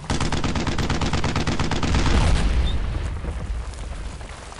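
Rapid, heavy machine-gun fire in a World War II firefight in the video game Brothers in Arms, a fast rattle of shots that swells into a booming blast and then fades into a rumbling tail.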